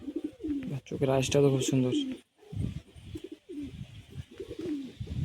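Pigeons coo at a pigeon market, soft rolling calls close by while someone talks over them.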